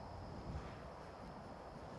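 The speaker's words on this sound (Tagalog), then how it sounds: "Malakas yung hangin, oh." Strong wind blowing outdoors at a campsite, a steady, broad roar buffeting the microphone continuously for the whole moment with no other sounds standing out.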